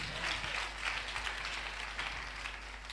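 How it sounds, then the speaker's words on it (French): A church congregation applauds loudly in a sustained wash of clapping that fills the room, with a low hum underneath and faint voices mixed in. "Acclame très fort le roi de Jésus."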